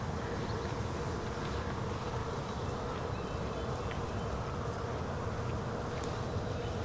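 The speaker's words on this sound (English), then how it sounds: "the bees are just humming on this" Steady dense humming of many bees on a flowering tree, continuous and close, with no voices, filling the whole stretch.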